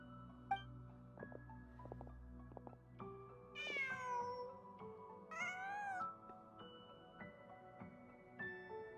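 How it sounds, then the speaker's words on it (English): A cat meows repeatedly in a video game, several rising, drawn-out calls, a couple of them louder and sustained, over a steady game music and ambient backdrop with no talking. "Just a cat."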